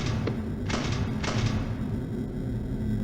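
A door shutting in the horror video game Five Nights at Freddy's: Soulless, a few close dull thuds in quick succession over a constant low droning ambience.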